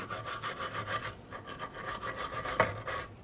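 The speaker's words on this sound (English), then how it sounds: "I'm just going to take a wire brush and scrub all this off" A wire brush scrubs corrosion off the master cylinder area of a 2000-2005 Ford Excursion, giving a steady run of close, raspy back-and-forth strokes with a brief sharper scrape near the end.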